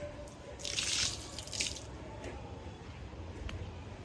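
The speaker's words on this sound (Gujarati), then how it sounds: "ફટાફટ પાણી ઢોળ દઈએ, છંટકાવ કરી દઈએ" Water splashes and sprinkles onto patterned floor tiles, with soft dripping and spattering bursts close by, then quieter trickles and drips over a faint background hiss.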